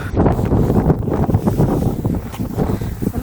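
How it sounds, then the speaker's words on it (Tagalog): Strong wind gusting during a walk in falling snow, a loud, buffeting roar that rises and falls in uneven pulses close to the microphone. "Nakasalubong namin yung malakas na hangin oh"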